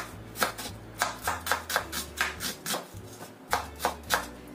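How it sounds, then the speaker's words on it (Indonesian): A knife thinly slices three red shallots on a cutting board, a quick run of about a dozen crisp, close taps in an even rhythm with a brief pause midway. "Ini kita iris tipis aja bawang merahnya itu"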